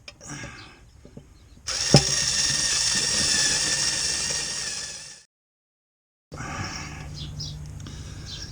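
A small electric screwdriver whirs steadily for a few seconds while driving oil pan bolts on a 2.4L Chevy HHR, preceded by faint clicks and handling noise, then stops; brief silence follows before quieter workshop background resumes.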